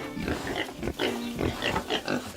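Pigs in a clean, spacious farm barn grunt and squeal close by in quick, overlapping bursts, with no talk.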